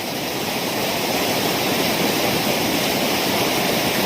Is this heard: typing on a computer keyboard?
no